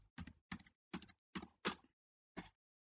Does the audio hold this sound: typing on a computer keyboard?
yes